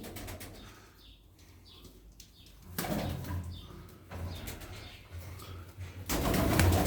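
Tumbler pigeons from a blue-peppered family flap their wings in bursts, fluttering whirs rising and falling at moderate distance, with a few soft coos and chirps between the louder flights toward the end.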